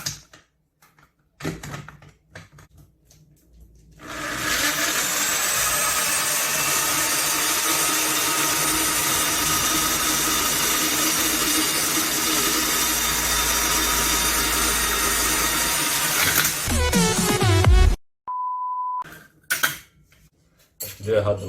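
A bench drill press fitted to a drill stand bores into an aluminum can, giving a loud sustained whir with metallic rattling and scraping for about thirteen seconds, then stopping abruptly, followed by brief clicks and a short tone.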